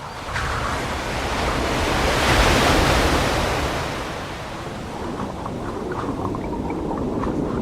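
Sea surf rolls onto the English coast with wind, a broad continuous wash that swells into one loud breaking wave, then settles into a steady, lower roar with no voices.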